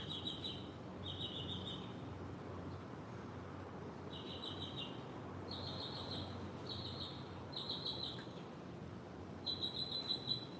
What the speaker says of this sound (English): Anybody know what kind of a bird that is?